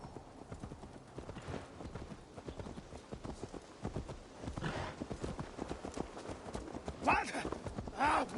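Horse hooves clip-clop in a steady, rhythmic trot throughout the Assassin's Creed Valhalla video game scene, running under character dialogue.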